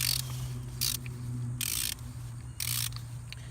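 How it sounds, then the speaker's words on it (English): A Harbor Freight 1/2-inch ratchet clicks in four short bursts of rapid pawl ticking while loosening diesel injectors on a Mercedes 300D parts car, close up over a low engine-bay hum, with no talking. "this right here is my Harbor Freight 1/2-inch ratchet"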